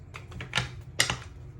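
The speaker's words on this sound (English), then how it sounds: "So let's get on with the shuffling. I'm going to start with the deck of tarot cards" A deck of tarot cards is shuffled quietly, giving a few soft, crisp clicking riffles in two short clusters against a low background hum.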